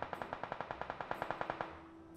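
Automatic gunfire in a video game, a rapid burst of about fifteen evenly spaced shots that ends after roughly a second and a half, moderately loud with no voices over it.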